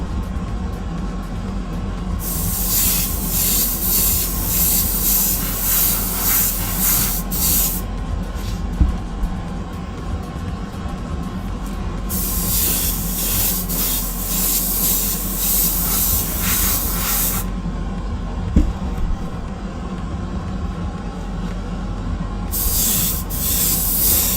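An airbrush sprays base coat onto Greek style vases in three bursts of steady hiss, each a few seconds long, over a constant low background hum.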